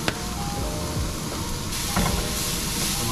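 Shallots hit a pan of burnt butter and sizzle in a steady, dense hiss that carries on throughout, with a slight rise near the end and no voices.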